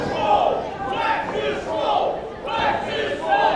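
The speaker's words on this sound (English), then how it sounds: "the crowd trying to rally Flex with the chant of Flex is swole" A pro wrestling arena crowd chants in a steady repeated rhythm to rally a wrestler, loud massed voices rising and falling in regular phrases.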